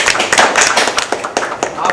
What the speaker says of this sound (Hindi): इसके लिए ताली आप बजाएं प्लीज